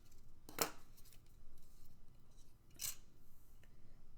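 Two sharp, crisp snips of scissors cutting, about two seconds apart, close by against a quiet background.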